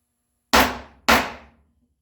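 A chisel struck twice while cutting waste from a walnut dado for a hand-built bookcase, two sharp close knocks about half a second apart, each ringing briefly before fading.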